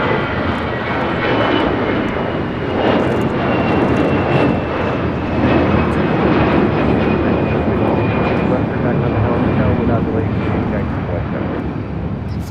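American Airlines flight 658 taking off from LAX runway 25 right, its jet engines a loud, sustained roar with a whining tone riding on top, rumbling close by throughout, while a voice talks underneath.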